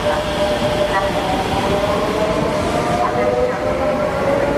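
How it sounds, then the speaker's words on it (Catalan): A train runs through Benifaió-Almussafes station in Spain without stopping, a loud, steady rolling rumble with a faint sustained tone throughout. "Para su paso, un tren sin parar."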